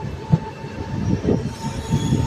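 Passenger train running between Gandhidham and Palanpur, with a steady rumble of railcars and squealing wheels, rhythmic clunks and knocks rising and falling throughout, close and continuous with no talk.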